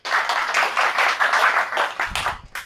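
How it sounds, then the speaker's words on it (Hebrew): A room full of people applauds a speaker named Zvi at a tech talk on guilds, a dense, steady wash of clapping hands that thins out toward the end, with a few last claps. "מחיאות כפיים לצבי"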